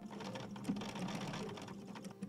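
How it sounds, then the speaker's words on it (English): A sewing machine runs steadily and close, top stitching around the petals of a 1930s-style hydrangea quilt block with a continuous whirring drone throughout. "I am just going to start sewing, and I'm going to top stitch around all the petals."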